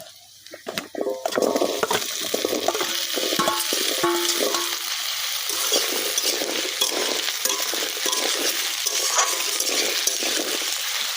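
Pieces of taro drop into a hot pan of oil with fried onion and garlic, then a loud, steady sizzle rises, with repeated scraping and clattering as they are stirred close by.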